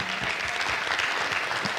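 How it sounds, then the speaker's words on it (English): Audience at an African readers conference breaks into steady, dense applause, many hands clapping together close by with a faint crowd murmur underneath and no clear speech. "let us give them a thunderous hand clap"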